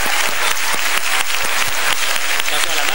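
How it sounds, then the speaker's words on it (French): An audience at a live French-language comedy show applauds loudly and steadily, dense clapping filling the room for the whole stretch without a break. "On l'applaudit, s'il vous plaît"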